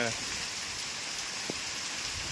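Heavy rain pours down steadily as a broad, constant hiss filling the whole clip, with one brief knock partway through and no clear talking.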